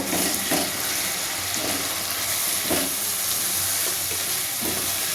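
Steady sizzling of salt, turmeric, cumin and chili powder being stirred into onion, ginger, garlic and tomato in a frying pan, with occasional spoon scrapes breaking through the close, continuous hiss.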